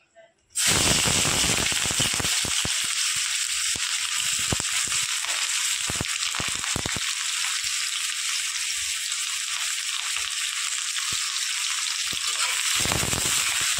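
Chopped onion crackles and sizzles in hot oil at the start of a jute-leaf dal, a dense continuous fry with occasional sharp pops, close and fairly loud, with no talk.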